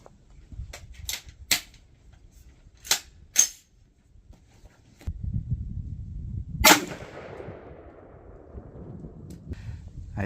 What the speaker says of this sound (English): assuming we're going to miss our first shots here because we got to zero this thing